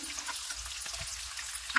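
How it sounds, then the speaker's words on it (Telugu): A tempering of cumin, mustard seeds, garlic cloves, dried red chillies and onion pieces frying in oil, a close, crackling sizzle with a few stirring scrapes, short and alone before cutting off. "కొన్ని వెల్లుల్లి రెక్కలు, 4 ఎండుమిర్చి, ఉల్లిపాయ ముక్కలు వేసుకుంటున్నాను. వేసుకున్నాక కలుపుకుంటూ ఫ్రై చేసుకోవాలండి."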